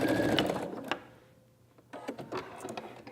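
A sewing machine stitches fabric pieces for a quilt block in short mechanical bursts, a loud run at the start, a near-silent pause, then several quick stitching spurts up close.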